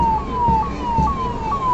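A fire pump of the Kankavli municipal fire brigade sounds its siren during a flag-hoisting parade, giving loud, close, rapid falling wails that repeat about every half second over low rumble.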